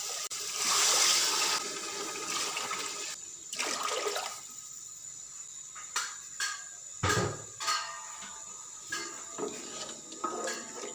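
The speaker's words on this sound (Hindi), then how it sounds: "इसी हिसाब से हम 3 बाउल इसमें पानी के ऐड करेंगे।" Water being poured into a pot of sautéed rice and vegetables for vegetable rice, in a loud splashing gush at first, then several shorter pours and trickles in bursts with quiet gaps between.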